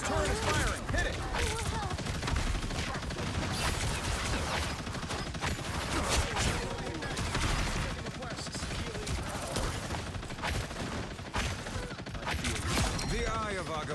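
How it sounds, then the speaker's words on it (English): Punisher's turret fires in the hero shooter Marvel Rivals as a dense, continuous rattle of rapid gunfire mixed with mechanical clatter and chaotic battle noise for the whole stretch. "Punisher's turret is firing"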